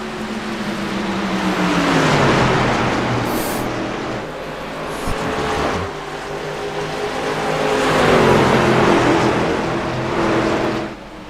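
Race cars run on the Phoenix track near the finish: engines whine and sweep in pitch as cars pass close and loud, with the roar swelling, fading and swelling again over about eleven seconds, and no talking.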